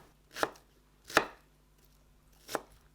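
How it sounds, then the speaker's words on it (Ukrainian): A knife cuts thinly through peeled onions on a board. Three distinct, crisp chops land close by, spaced unevenly, with quiet between them. "П'ять очищених цибулин розрізаємо на дві або чотири частини, як вам більше подобається, і нарізаємо тонкими пластинками."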